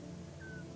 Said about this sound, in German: Meine eine Katze steht da, guckt die offene Tür raus und miaut.